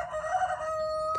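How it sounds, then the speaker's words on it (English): A rooster crows loud and close in a backyard garden, one sustained cock-a-doodle-doo call filling the short moment on its own. "This rooster is so annoying, y'all."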